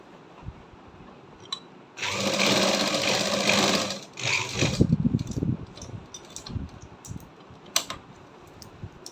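Sewing machine stitching the neckline of a garment, a close, steady mechanical whir running for about two seconds, pausing briefly, then starting again more unevenly, followed by scattered handling clicks.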